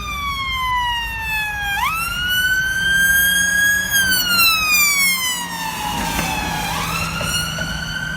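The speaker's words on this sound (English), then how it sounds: "Notice as the ambulance is approaching, it has a much higher sounding pitch." An ambulance siren wails close by on a road, its rising and falling tone sweeping in long cycles and then dropping noticeably in pitch as the vehicle passes and pulls away, loud over faint traffic rumble.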